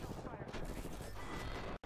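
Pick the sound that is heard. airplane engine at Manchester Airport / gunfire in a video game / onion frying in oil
gunfire in a video game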